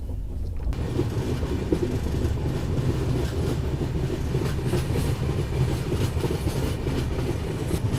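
A passenger train bound for Guwahati rolls along the tracks with a loud, steady rumble and faint wheel clatter, heard from close by with no voices.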